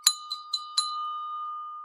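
Small metal bell struck four times in quick succession as a dinger, bright close strikes with one clear tone left ringing and fading afterward.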